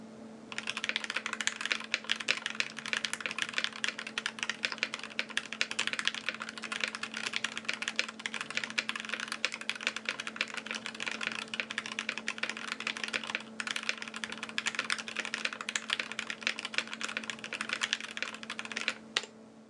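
Steady, continuous typing on a KBD67 V3 mechanical keyboard with an aluminum case, a dense run of close, moderately loud keystrokes with a thocky, slightly clacky character and no voices.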